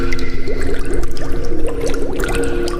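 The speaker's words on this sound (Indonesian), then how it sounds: "Aku bisa mendengar tetesan air jatuh ke lantai." Liquid drips onto a floor close by in quick, uneven drips and splashes, with no voices.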